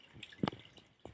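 Spring water at an outdoor laundry spot gives a few faint, scattered drips and small splashes over a quiet background.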